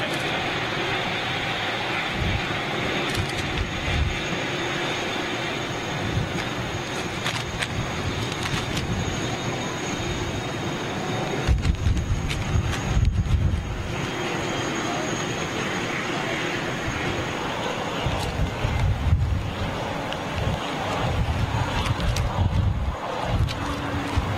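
Boeing 747-8 jet airliner producing a steady, wide broadband roar with a heavy low rumble that swells in a few louder surges, continuous throughout with no clear talk.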